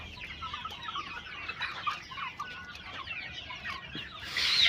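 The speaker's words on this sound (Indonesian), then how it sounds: "Kalau ayam tuh ngorok guys, ini guys." A sick chicken with a nosebleed, suffering from the snoring respiratory illness, gives a steady raspy, wheezing cluck over several seconds, close and moderately loud, with a brief louder burst at the end.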